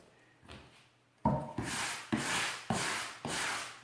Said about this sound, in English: I just want to brush it.